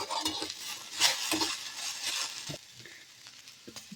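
Whole okra roasts in a hot pan while a spatula stirs and scrapes it. Soft scraping strokes and light sizzling come close and repeat irregularly, and the sound grows quieter toward the end.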